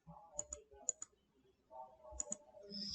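Mouse clicking on menu options in Microsoft Word, a few sharp light clicks in quick pairs, close and quiet against near silence.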